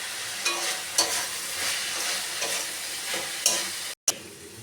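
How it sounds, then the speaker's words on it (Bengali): Ground turmeric, chili and cumin sautéing in a pan for a jackfruit curry, a constant close sizzle with regular scraping strokes of a spoon and a brief cut in the sound. "এবার আমি মশলাটাকে ভালো করে কষিয়ে নেব।"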